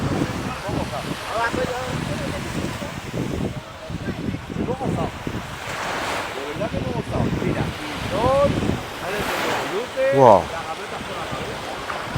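Sea waves washing onto a crowded beach in Spain, a continuous rush of surf and wind buffeting the microphone, heard beneath nearby voices talking.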